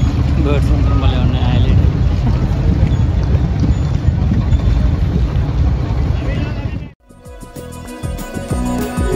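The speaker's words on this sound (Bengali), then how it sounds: "তো আমরা এখন এখানে একটু বোট রাইড করবো" A boat ride on the river at Varanasi, with a loud, constant rumble of the boat and wind buffeting the microphone throughout, then an abrupt switch near the end to brighter tonal sounds.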